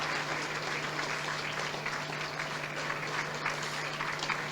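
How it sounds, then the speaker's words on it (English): An audience at an anniversary gala and awards event gives a sustained round of applause for Rear Admiral Antoinette Weems Gorman, a dense, even clapping that fills the hall over a steady electrical hum. "Keep the round of applause going for Rear Admiral Antoinette Weems Gorman."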